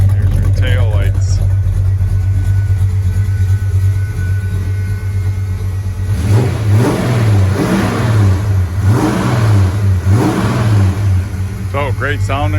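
A 1973 Plymouth Duster's engine runs steadily at close range, a low idle hum with a few swelling revs, while someone talks briefly at the start and end.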